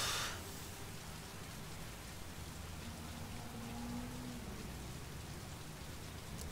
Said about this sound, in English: Heavy rain. There it is.